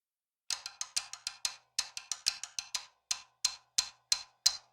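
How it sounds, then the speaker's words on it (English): Short, sharp floor tom and rack tom hits with a little reverb, about fifteen dry strikes in quick alternating runs and then spaced pairs, close and clear with no voices. "And then you should be able to hear that's the floor and rack tom."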